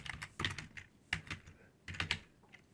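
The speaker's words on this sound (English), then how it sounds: "if I can type here" Keys clatter on a computer keyboard in short uneven bursts of typing, close and fairly quiet, with brief pauses between runs of keystrokes.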